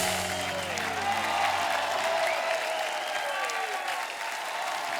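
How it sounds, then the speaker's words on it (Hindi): Loud, sustained applause from a studio audience at a television comedy show, with dense steady clapping filling the whole stretch without a break. "दृश्यम की एक बार जोरदार तालियां हो जाए।"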